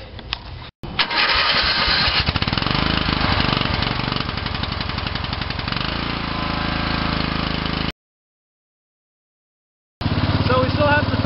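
A racing lawn mower engine runs close and loud, a rough, steady roar held for several seconds, then cuts out to silence before roaring back again.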